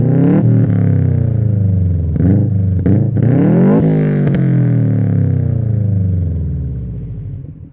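A JDM bug-eye Subaru WRX STi with an EJ207 engine and a muffler removed from the exhaust, revving loudly and close in repeated blips before settling and fading toward the end.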